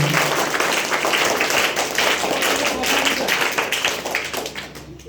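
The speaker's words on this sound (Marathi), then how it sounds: "टाळ्या वाजवायच्या सर्वांनी" Loud, sustained applause from a science quiz competition audience, many hands clapping densely and steadily for several seconds before tapering off.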